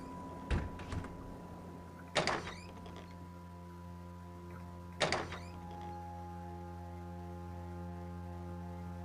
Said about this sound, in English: That's a new door.